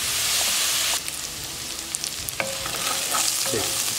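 Onion and chopped pepper frying in olive oil in a pan for a shrimp bobó, a loud, close hiss of sizzling that eases after the first second, with scraping stirs and clinks.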